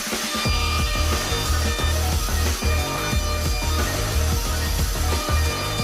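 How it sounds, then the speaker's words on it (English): CNC lathe turning rough wooden blocks into ornate bed parts, a dense steady whir of cutting with rhythmic chattering bursts throughout, loud and close with no speech. "we admired the CNC lathe at work"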